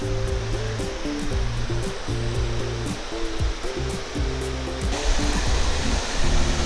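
Waterfall at the Ponte dos Arcos area in Paraná, Brazil: a loud, constant roar of falling water heard up close, steady throughout with no talking.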